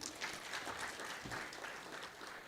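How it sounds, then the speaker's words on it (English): A breakfast stakeholders' engagement audience claps steadily for the minister, an even wash of applause heard from a distance at low level. "let's give a big round of applause to our minister"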